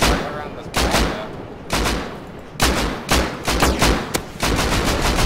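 Helicopter gunfire in the video game Rust, bursts of loud rapid shots hitting near the player in irregular volleys, with excited voices talking over the shooting.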